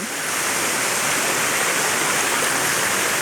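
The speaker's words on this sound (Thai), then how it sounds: "ดูความ สวยงามของน้ำตก" Steady, full rush of falling water, a continuous roar of Ta Thoen waterfall in Thailand with no voices.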